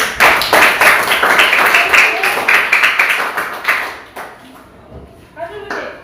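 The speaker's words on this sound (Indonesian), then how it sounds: "Kita beri tepuk tangan dulu." Children in an Indonesian classroom clap together in a dense, sustained burst for about four seconds, then it fades and a few scattered claps follow, with voices under it.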